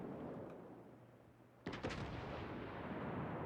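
High-explosive shells fired from a warship in World of Warships, a sudden sharp boom with a quick follow-up blast rolling out over a low rumble after a quiet stretch.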